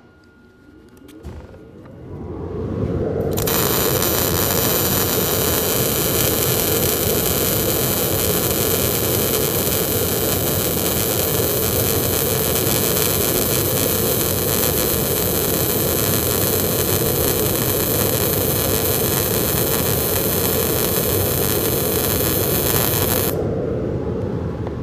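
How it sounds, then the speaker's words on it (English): A MIG welder lays a bead on 10 gauge steel at too slow a travel speed, giving a loud, continuous crackling hiss that starts abruptly after a few seconds and holds steady for about twenty seconds before cutting off. "I'm going to go too slow for this particular weld, and we're going to see what happens to the outcome of our weld."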